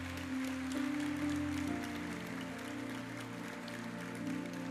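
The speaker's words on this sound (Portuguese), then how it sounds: "Quantos podem aplaudir ao Senhor nessa noite?" A church congregation claps quietly through a sustained musical drone, the applause soft and distant, spread evenly over a few seconds.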